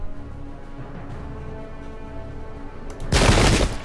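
Musket volley from the Pike and Shot Campaigns battle game, a sudden loud crackling burst of massed fire near the end after a quiet rumbling backdrop.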